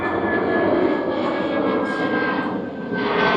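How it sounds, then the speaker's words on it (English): Fixed-wing airplane engine roaring loud and steady near the end of an airport runway in Jamaica, a continuous close drone with no voices. "There's the airplanes."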